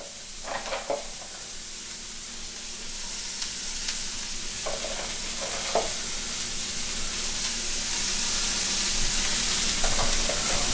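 Breakfast ingredients frying over medium heat hiss steadily, the sizzle swelling gradually, with a few scattered scraping stirs of a utensil in the pan; no speech.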